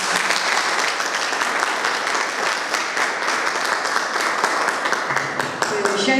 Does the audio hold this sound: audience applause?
yes